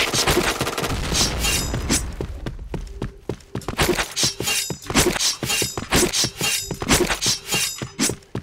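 Point Blank first-person shooter gameplay with a grenade blast buried in dense combat noise: rapid gunfire bursts, sharp cracks and booms, loud and continuous with brief lulls and no talking.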